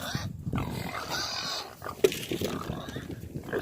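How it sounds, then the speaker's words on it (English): Pigs on a farm squeal and grunt eagerly for evening food, a busy, overlapping chorus of close squeals and oinks with a voice talking underneath. "Those pigs just squeal for this food here."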